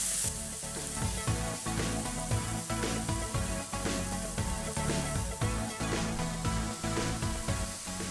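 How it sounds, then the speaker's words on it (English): Garlic and ginger sizzling hard in a hot skillet, a loud, continuous crackling fry with the rhythmic scrape of stirring running through it, no voices. "We're gonna cook this mixture until the garlic and ginger are fragrant, about 2 minutes."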